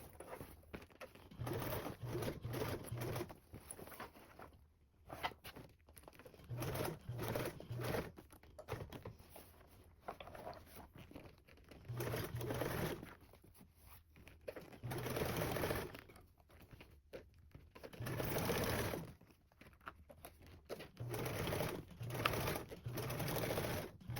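Sewing machine top stitching a seam on a duffle bag, running in steady bursts of rapid mechanical stitching with short pauses between rows, close and fairly loud with no talking.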